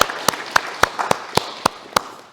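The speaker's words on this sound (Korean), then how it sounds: "우리 잠깐 박수로 환영하겠습니다" A church congregation clapping together to welcome a visitor during a Korean Sunday service in Berlin: about eight sharp, evenly spaced claps in unison in a steady beat, close and loud.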